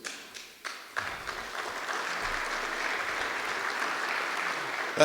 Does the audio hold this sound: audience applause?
yes